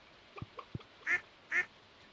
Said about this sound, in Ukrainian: тут вилупилося каченятко